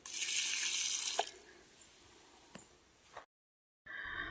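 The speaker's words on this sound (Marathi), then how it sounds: "आता पक्ष्यांसाठी पाणी भरून ठेवते" Water pours from a tap into a container left out for birds, first a strong hiss and then a thinner trickle with a few small knocks, stopping briefly before flowing again, close and quiet.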